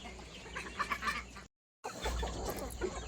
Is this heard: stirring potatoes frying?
no